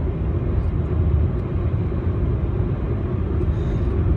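Inside a Nissan K11 Micra hatchback cruising at 40 mph, a constant low road and engine rumble fills the cabin at steady volume throughout, with no voices.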